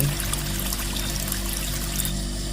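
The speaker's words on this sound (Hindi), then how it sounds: "वे कूलर खोलकर बाल्टी का सारा गर्म पानी कूलर के अंदर डाल देता है।" In a cartoon, hot water pours from a bucket into an air cooler, a steady, fairly loud rushing splash that continues without a break.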